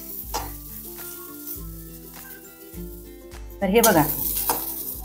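Cumin and coriander seeds dry-roasting in a pan over low gas heat give a soft, steady sizzle with stirring scrapes, swelling louder near the end, under faint background music and a brief spoken phrase.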